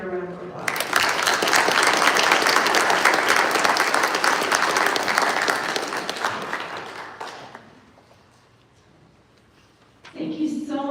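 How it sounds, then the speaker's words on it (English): Sustained applause from a concert audience for the composer Sue at a 25th anniversary concert, rising fast into a full, even roar that slowly fades to near silence before a voice resumes. "So give her another round of applause"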